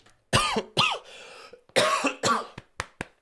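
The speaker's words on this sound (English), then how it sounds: "This cough's killing me." Several harsh coughs in two bursts, followed by a few shorter, sharper coughs trailing off, close and loud with no talking.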